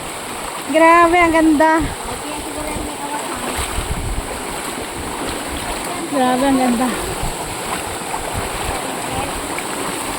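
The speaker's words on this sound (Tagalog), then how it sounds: "Awas ang tubig sa tangke" Water spilling over the rim of a tank rushes steadily and close throughout, a continuous splashing flow, while a voice speaks twice above it.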